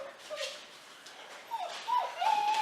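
German Shepherd puppies give soft, close whimpers and a few higher rising yips, faint and intermittent, growing a little louder toward the end.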